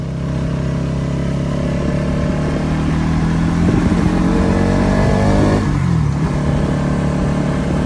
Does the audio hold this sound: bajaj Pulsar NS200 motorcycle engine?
yes